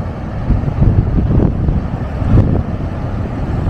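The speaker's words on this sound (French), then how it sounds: "la mer elle est waouh, déchaînée" Rough, churning sea on the Moroccan coast with strong wind buffeting the microphone, a loud continuous roar with low surging swells.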